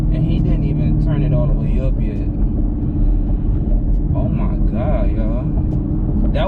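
Tuned Chevrolet SS engine revving hard, a loud, continuous low rumble that holds steady throughout without dropping away, close and dominant with other sound mixed faintly underneath.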